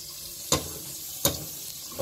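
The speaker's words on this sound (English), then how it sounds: "First, we're going to add some butter, and we're just going to saute it for a while." Butter sauteing in a pan for egg fried rice, a low continuous sizzle punctuated by three sharp clinks of a utensil against the pan at roughly even intervals.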